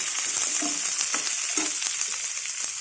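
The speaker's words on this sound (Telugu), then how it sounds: "సిమ్లో పెట్టుకొని మూత పెట్టకుండా కొంచెం వేయించాలండి" Sliced onions and green chillies frying in a pan on a low flame with the lid off, giving a steady close sizzle with light stirring scrapes and no talk.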